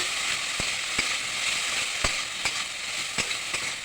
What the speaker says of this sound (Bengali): আমি লঙ্কা বাটাটা দিয়ে দেবো লঙ্কা বিচটা রসুন একটু আদা বেটে নিচ্ছি এখন ভালো করে নাড়ি চাড়িয়ে নেবো আমি